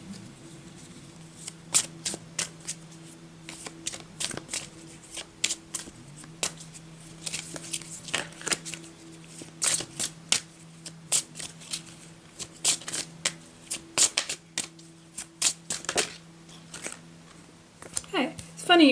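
Goddess oracle cards shuffled by hand in a steady run of crisp riffling flutters and soft slaps, close and fairly quiet, with a low steady hum underneath.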